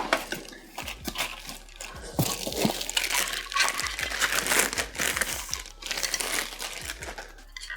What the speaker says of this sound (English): there's this protective plastic just on here that we'll have to take off